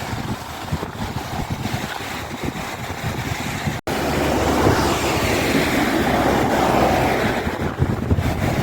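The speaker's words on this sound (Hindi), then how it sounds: "इस रफ्तार से पानी बहुत तेज़ी से गुजर रहा है यहाँ पे" Fast-rushing floodwater from rain in Saudi Arabia roars steadily and loudly, a broad turbulent wash that swells after a brief break, with no voices.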